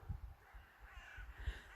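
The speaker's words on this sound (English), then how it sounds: "Crows. That's one of the crow trees there." Several crows caw by a snowy river in February, the calls coming in a few short bursts over a low outdoor rumble, moderately distant and fairly quiet.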